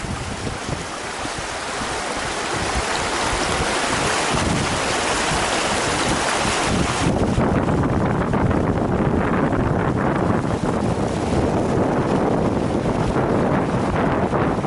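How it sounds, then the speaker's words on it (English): Strong wind buffets the microphone beside the Neversink River, a loud, steady roaring rush with heavy low rumble throughout, the gusts easing slightly after the midpoint while flowing water continues underneath. "it's crazy wind"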